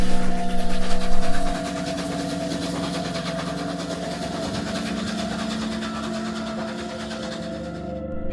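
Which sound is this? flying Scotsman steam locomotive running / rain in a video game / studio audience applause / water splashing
flying Scotsman steam locomotive running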